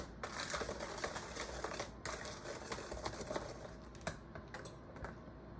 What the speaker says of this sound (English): Then when we get this whisked together good, we'll fold in the peaches.